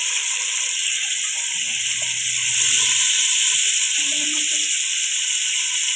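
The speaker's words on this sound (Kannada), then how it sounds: "ಎಣ್ಣೆ ಕಾದ್ಮೇಲೆ ಮಟನ್ನ ಹಾಕಿ" Mutton pieces are dropped into hot oil for a village-style curry, giving a close, continuous sizzle and hiss with faint clinks and a low voice murmuring underneath.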